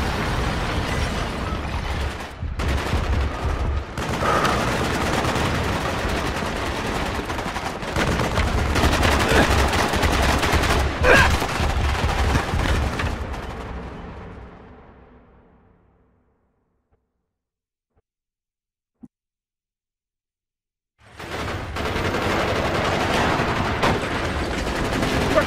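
Heavy .50 cal machine gun fire in Call of Duty Black Ops hammers out in dense, sustained bursts among other battlefield gunfire. It fades away to near silence before the shooting abruptly resumes.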